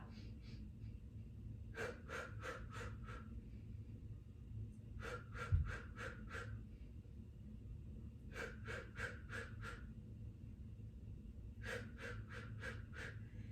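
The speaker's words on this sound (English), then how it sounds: "Make sure it's that staccato breath in and staccato breath out." Short, sharp staccato breaths in and out during an intermediate mat Pilates pumping exercise, coming in four repeated bursts of rapid puffs over a steady low background hum, with no talking.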